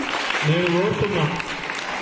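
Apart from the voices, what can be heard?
audience applause for a schoolgirl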